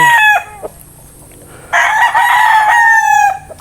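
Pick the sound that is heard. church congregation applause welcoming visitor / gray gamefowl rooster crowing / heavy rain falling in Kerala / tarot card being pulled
gray gamefowl rooster crowing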